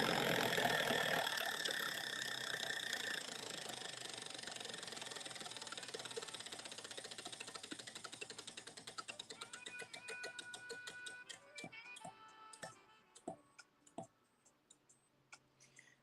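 Prize wheel spinning, a dense rush of rapid clicks that gradually slow into distinct, spaced ticks and then stop as the wheel comes to rest.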